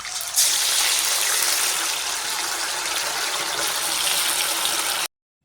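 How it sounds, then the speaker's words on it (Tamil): Marinated mutton hits hot oil for frying as kebab, letting out a loud, steady hiss and crackle that holds evenly close by for several seconds before stopping abruptly. "ஆயில் ஹீட் ஆயிடுச்சு இப்போ வந்து நம்ம நிறைய வச்சுருந்த மட்டனை இதில் சேர்த்துக்கலாம்"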